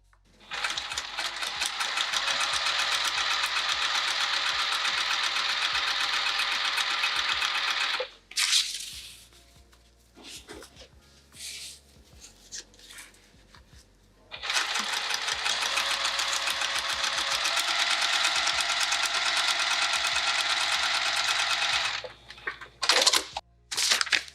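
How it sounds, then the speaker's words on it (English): A sewing machine top stitches a fabric sling in two long, loud, rapid runs of steady stitching, separated by a quieter gap of handling and small clicks, ending with a brief final burst. "And then we'll top stitch that as well."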